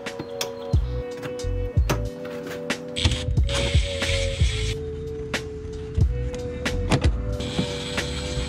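Hand tools work on the front bumper of a 2020 Honda Pilot/MDX with a 9-speed transmission, giving repeated ratchet clicks and whirs interspersed with sharp metallic taps and knocks, close and fairly loud.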